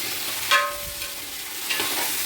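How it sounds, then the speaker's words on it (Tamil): Chopped onions and tomatoes fry for chicken biryani in a loud, continuous sizzle, with a brief scrape of stirring partway through. "தக்காளி நல்லா வதங்கட்டும்"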